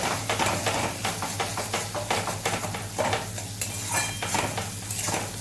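Spoon stirring tomato sauce into egg curry masala in a pan, with steady scraping and clinking of utensil against metal and a light sizzle underneath, repeating in short rhythmic strokes.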